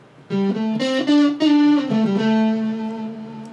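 A fuzzy, distorted electric guitar through an Axe-Fx III compressor with transients set to zero plays a few sustained notes and a short phrase, with a gritty, compressed buzz and no talking.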